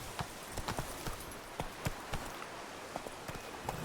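Roach the horse in The Witcher 3 clip-clopping at a steady trot, evenly spaced hoof strikes on ground over a noisy, rushing ambient background.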